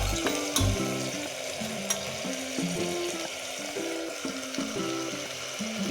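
Bitter gourd pieces fry in masala curry with a constant sizzle while a utensil stirs in repeated, rhythmic scraping knocks against the pan, close and fairly loud, with no voices.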